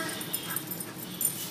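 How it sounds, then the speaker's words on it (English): A dog in a pet store whimpers and yips in short, faint high cries over a quiet indoor background, a few brief whines spread across the moment. "Whoa, look at the dog."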